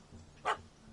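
A puppy in a video game gives one brief, faint yip-like bark midway through, over a low steady background hum.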